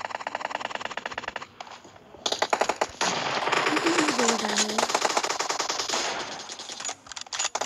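Rapid bursts of automatic gunfire in the PUBG battle game, loud and dense with near-continuous rattling strings of shots and short gaps between bursts.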